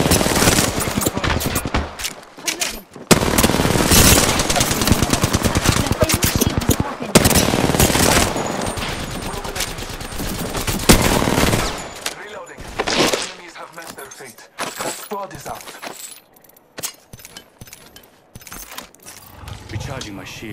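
Bursts of automatic gunfire and shots from the Apex Legends battle royale game, loud and dense in the first half and sparser later, with teammates' voices calling out over the action.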